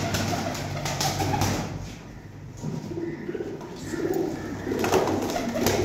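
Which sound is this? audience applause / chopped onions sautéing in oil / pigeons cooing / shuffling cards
pigeons cooing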